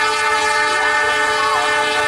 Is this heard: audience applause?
no